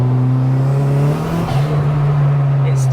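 A fully built 330 bhp Toyota Glanza turbo hatchback accelerates hard down a road, its engine drone loud, close and steady throughout, with a brief dip in pitch partway through.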